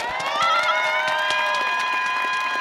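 Applause and cheering from an audience at a youth poetry festival stage: continuous clapping with bright whoops and shouts throughout, steady and fairly loud.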